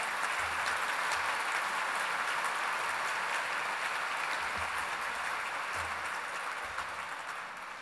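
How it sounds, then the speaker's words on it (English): An audience at a London awards ceremony applauds in a continuous wash of clapping that fills the room and holds evenly throughout, with no voices over it. "can we have a round of applause for Pete Murray for doing an amazing job during the awards"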